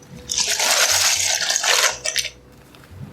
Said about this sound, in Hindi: तो ये देखिए यहाँ पे पानी में उबाल आ चुका है। इसमें मैं पास्ता डाल दूँगी।